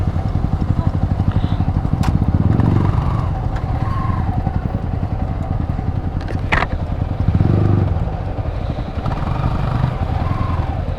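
Yamaha R15 sport motorcycles run together at night, their engines giving a loud, steady, buzzing drone that swells briefly with revs a couple of times.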